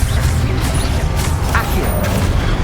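A Levioso spell is cast in Hogwarts Legacy combat: a loud magical whoosh and thump ring over a dense, continuous rumble of battle noise, with a brief crash near the middle.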